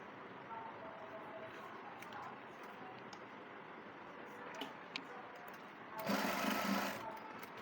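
A sewing machine runs steadily while stitching a pajama drawstring, a soft continuous whirr that swells into a louder, faster burst near the end, close by with no talking.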